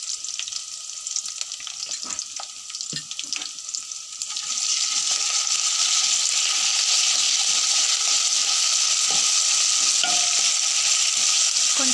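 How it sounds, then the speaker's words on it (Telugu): Ginger garlic paste frying in a pan as it is stirred, with a few scrapes and clatters before a loud, continuous sizzle swells up around the four-second mark and holds close and steady. "ఇప్పుడు దీంట్లోకి మనం అల్లం వెల్లుల్లి పేస్ట్ ని యాడ్ చేసుకుందాం।"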